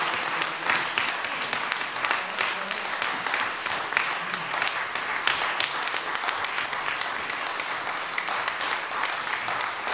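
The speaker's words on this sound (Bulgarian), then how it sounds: "Дами и господа, благодаря за вашите аплодисменти." An audience at a big band concert gives sustained, dense applause after a solo, steady and fairly loud with many clapping hands blending into a continuous roar for the full stretch.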